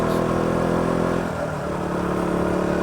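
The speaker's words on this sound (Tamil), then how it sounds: "நம்மட பைக்கே முக்குது இப்போ" A motorcycle engine labors climbing a winding uphill road, a steady low drone with faint shifts in pitch, loud and close throughout.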